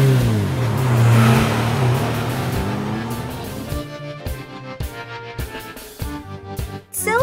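A silver sedan car drives past with a swelling engine roar that peaks early, then gives way to a clattery stretch of sharp clicks and knocks.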